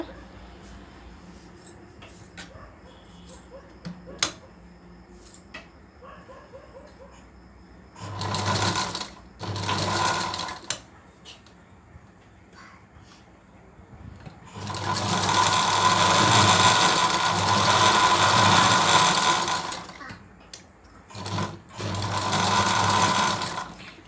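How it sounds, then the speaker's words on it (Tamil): An overlock sewing machine stitches along thread for a piping knot in several bursts of whirring, loud and close, with quiet pauses between runs and no talk over the stitching. "இப்போ இந்த உள்ள நூலை இங்கே சென்டராக வச்சுட்டு நல்லா ஓவர்லாக் பண்ண போகிறோம்"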